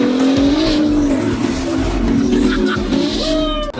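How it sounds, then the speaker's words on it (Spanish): A twin-turbo Ferrari F12 being driven, its engine note rising and shifting through revs up close, with tire noise beneath and a brief dip near the end. "First time driving the F12, like actually driving it."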